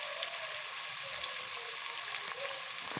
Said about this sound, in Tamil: அதனால் வெங்காயமும் ஆட் பண்ணிக்கோங்க. கரண்டியால் நல்லா வதக்கி எடுத்துக்கோங்க.